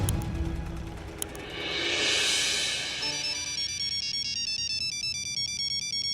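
A phone ringtone plays a repeating electronic melody, fairly loud and close, with a rising whoosh of noise partway through before the tune continues steadily.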